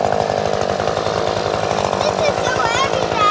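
A blower runs in a boat upholstery shop, a steady loud buzzing drone with a rapid pulsing rattle, while people talk over it.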